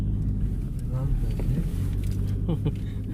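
Road traffic passes behind a grazing field in Cholistan where cattle and goats roam. Engines rumble and swell as vehicles go by, fairly close and continuous, with faint voices underneath.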